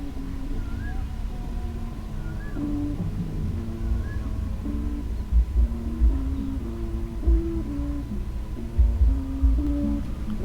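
An 18 mm rattan kite hummer on a Thai chula kite flying nearly 300 metres up drones with a steady, wavering tonal hum, while wind rumble and a voice sit underneath.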